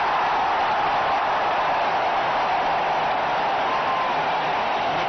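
A cricket crowd at the 2001 India versus Australia one-day international roars after a top-edged shot sails into the stands, a dense, continuous wash of crowd noise at steady volume.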